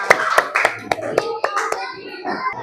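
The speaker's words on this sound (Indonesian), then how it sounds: "tepuk tangan buat kalian semua" Several children clap their hands in an uneven burst of sharp claps, with small voices chattering and squealing among them.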